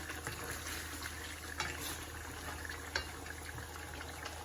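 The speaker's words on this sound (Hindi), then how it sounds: "अब हम इसके अंदर पानी डाल देंगे।" Water is poured from a jug into a pot of fried mutton for nihari, a faint continuous splashing trickle with light bubbling and a few soft knocks, no talking.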